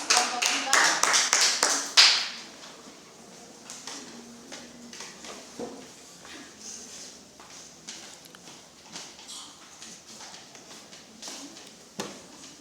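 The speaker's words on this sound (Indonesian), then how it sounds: "Berikan aplaus kepada kelompok 3." A small classroom audience claps for a presentation group, a brief burst of scattered hand claps that quickly fades into sparse taps and quiet room noise.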